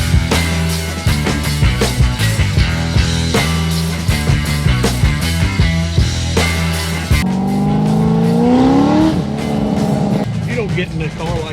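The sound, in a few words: car engine revving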